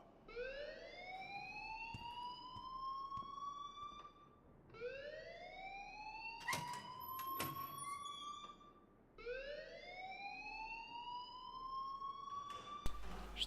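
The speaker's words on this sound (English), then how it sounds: "please turn off that alarm since that's your job." An alarm sounds inside the video game Life is Strange, three long rising siren-like wails that sweep upward and hold, separated by short gaps, with a few sharp clanks in between.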